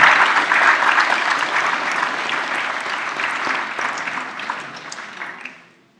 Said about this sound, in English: could I ask you to give them a big round of applause?